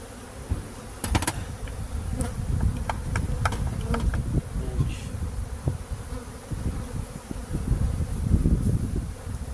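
Honeybees buzz densely and close while being scooped with a small cup into Apidea mating nuclei, a continuous hum with scattered clicks and knocks of handling, no talk.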